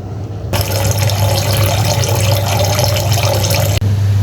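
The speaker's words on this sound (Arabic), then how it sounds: "هملى بقى بقيه الجردل كله ميه عاديه من الفلتر" Filtered tap water pours steadily into a bucket for plant care, a loud continuous rushing stream beginning abruptly and running close to the microphone with no talk.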